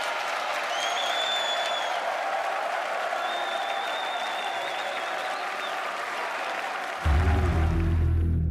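Applause fills the Royal Albert Hall for most of the stretch, a steady dense roar of clapping from a large crowd, with faint tones above it and a louder low rumble cutting in near the end.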